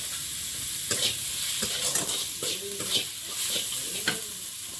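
Onion, green chilli and tomato fry in hot oil in a pan, with a constant sizzle broken by several spatula stirs and scrapes at irregular intervals, close and fairly loud with no talk.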